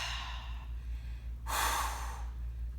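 A single forceful exhale during a core rotation stretch at a wall, a short breathy whoosh partway through over a low steady room hum, close to the microphone.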